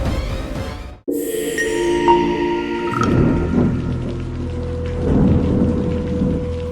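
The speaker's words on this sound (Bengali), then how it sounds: "সকাল থেকে একটানা টিপটিপ বৃষ্টি পড়ছে।" Steady rain falls in a cartoon scene of monsoon drizzle over a village market, a dense continuous patter with a sharp cut near the start and a low rumble swelling beneath it.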